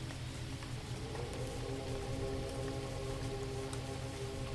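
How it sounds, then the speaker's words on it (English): Rain falls on a still pond at night, a soft, steady hiss of drops patting the water surface, even and unbroken throughout. "Rain lands on its surface in soft, widening circles."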